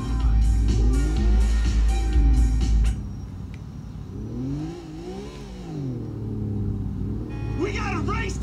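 A Nissan GTR engine in Grand Theft Auto IV revs up and down in sweeping, rising and falling pulls after a stretch of busier game sound, moderately loud and close.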